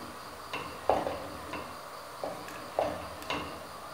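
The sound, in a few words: stirring Thiruvathira puzhukku in a pot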